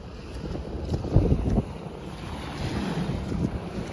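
Sea waves at a beach wash in steadily under strong wind buffeting the microphone, with one louder surge of water early on and no voices.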